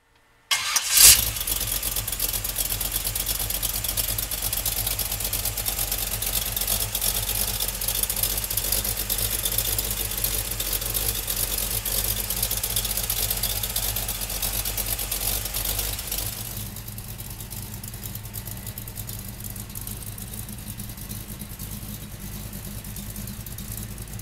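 A 1954 Chevrolet five-window pickup truck cranks and fires, its engine running loud at a fast idle before settling to a lower, steady idle that continues to the end, with no talk.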